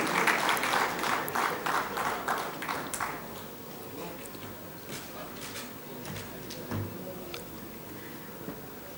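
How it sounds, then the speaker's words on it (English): A crowd at a business convention session claps steadily, loudest at the start and gradually thinning out, with some scattered voices underneath. "Let's have a warm round of applause for all our speakers"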